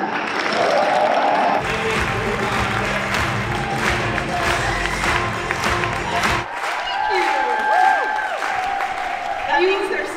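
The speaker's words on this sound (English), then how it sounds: "help me celebrate them with a huge round of applause" Live stage audience in Dortmund applauding and cheering as two women are welcomed on, a dense, loud wash of clapping and crowd noise with music underneath that drops away partway through.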